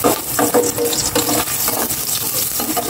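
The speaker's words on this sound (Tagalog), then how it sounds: "Igisa ko na po itong luya" Ginger sautéing in a hot pan, a busy crackling sizzle with quick stirring scrapes and bursts throughout, close and fairly loud, with no talking.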